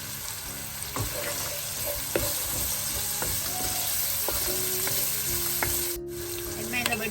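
Onion and ginger sauté in a pan with a steady close sizzle, scraped and stirred by a spatula in several distinct knocks throughout, with no voices.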